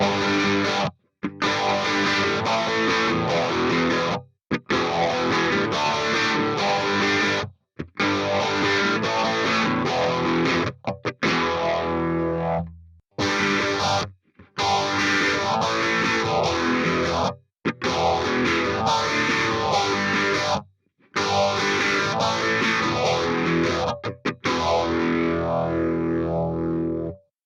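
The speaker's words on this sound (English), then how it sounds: "So what you're hearing there is the effect of a phaser" A distorted electric guitar plays repeated chugging phrases with a swirling phaser sweep on a Headrush MX5, placed before or after the amp, stopping and restarting several times with short silences between takes.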